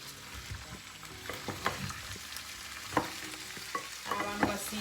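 Potatoes and onion being stirred in a pot, with a soft frying sizzle under scattered scraping and clinking strokes, close and fairly quiet.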